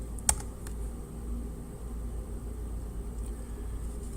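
A few faint, sparse keystrokes on a computer keyboard while entering an email on a password manager sign-up page, with a steady low hum or rumble underneath.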